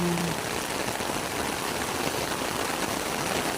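Steady rain hisses evenly throughout, a dense, constant patter with no voices.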